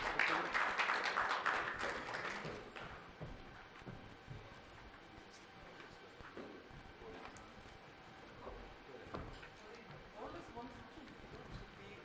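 A conference audience applauds award winners at a closing session: a dense burst of clapping for the first couple of seconds that quickly fades, followed by quieter room noise and talking.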